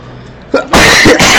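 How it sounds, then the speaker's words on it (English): A single sharp human sneeze, close and loud, with a short intake of breath before the burst, recorded during a video game session. "excuse me. I sneezed."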